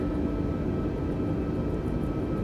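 An Airbus A320neo in Microsoft Flight Simulator descends on an ILS approach, producing a steady low engine and airflow roar, even and continuous throughout.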